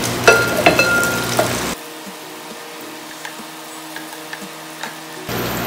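Chili peppers stir-fried in hot oil for sambal bawang, sizzling loudly and close for under two seconds, dropping to a faint low hiss with scattered small pops, then flaring up again at the end.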